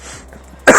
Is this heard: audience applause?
no